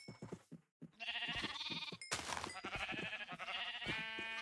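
Sheep bleating in the video game Minecraft, several wavering bleats in a row, fairly close, with game music or effects layered underneath.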